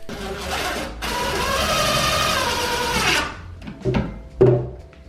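A power driver whirs steadily as screws are driven to fix kitchen cabinets to the wall, one long run of about two seconds followed by short bursts and clunks, close and loud.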